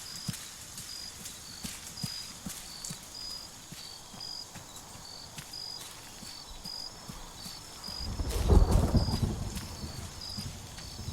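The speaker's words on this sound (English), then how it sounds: "Storm." Deep thunder rumbles loudly from a thunderstorm in the video game ARMA 3 near the end, over steady rhythmic clopping footsteps and faint repeating high chirps.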